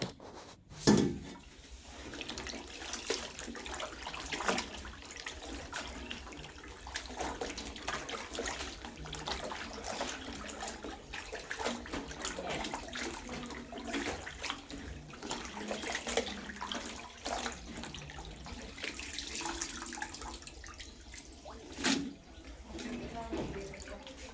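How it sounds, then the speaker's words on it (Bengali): Tap water runs steadily while fresh coriander leaves picked from a rooftop garden are rinsed, a soft, continuous splashing flow with a few louder splashes, and people talking over it at times. "এখন এগুলোকে আবার সুন্দর করে ধুয়ে তারপরে পানি ঝরিয়ে ফ্রিজে রেখে দিবে"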